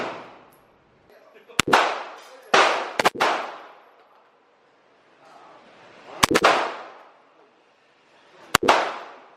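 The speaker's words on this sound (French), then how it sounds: "Là on a tiré avec des tout petits calibres" Several sharp small-calibre gunshots crack out at an outdoor shooting range, about five reports spaced irregularly, each followed by a long rolling echo that decays back toward quiet.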